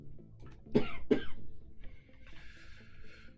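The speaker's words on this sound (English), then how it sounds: "still dealing with this annoying cough" Two sharp, close coughs from a man come in quick succession, followed by a faint throat sound and a soft high hiss trailing off.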